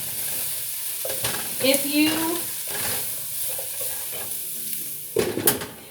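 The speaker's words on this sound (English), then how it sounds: "stirring up these vegetables," Vegetables stirred in a frying pan during meal prep, a soft continuous sizzle broken by several scraping strokes of a utensil close by, with a brief voice heard near the start.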